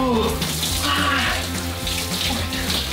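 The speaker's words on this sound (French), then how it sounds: "Après avoir fait ces 2 entraînements, The Rock prend une douche froide." A cold shower runs, with water spraying and splashing steadily at close range and a dense, continuous hiss from start to finish.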